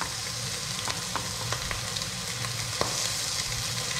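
A close, continuous hiss of fish fillets frying in a hot pan, dotted with irregular crackling pops of spattering oil.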